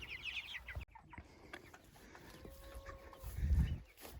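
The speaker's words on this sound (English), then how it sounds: "This is our broilers," Broiler chickens cluck softly in a farm pen, with a low, continuous murmur of fowl calls and a short drawn-out note rising near the end.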